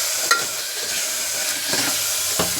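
Food fried with turmeric gets stirred in a pan, a continuous close sizzle broken by a few scraping stirs of the spoon, with no talking.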